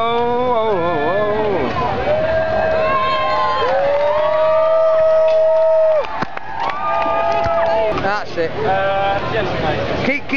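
A crowd cheers and whoops at the unveiling of a Scales of Justice statue, with loud, near voices rising and falling in long shouts and scattered claps mixed in. The cheering drops off sharply partway through, then picks up again in shorter bursts.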